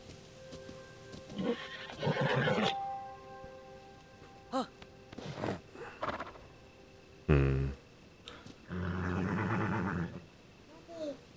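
A horse whinnies in The Legend of Zelda: Tears of the Kingdom, a loud drawn-out neigh standing out over quiet game music, with softer snorts and hoof sounds around it.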